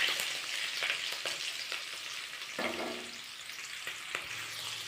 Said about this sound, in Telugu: ఇప్పుడు బాండీలో నూనె తీసుకొని టమాటా, పచ్చిమిర్చి వేయించుకోవాలి